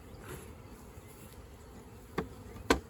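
Honey bees buzz faintly and continuously while a nucleus colony is installed into a hive, with a couple of sharp knocks near the end.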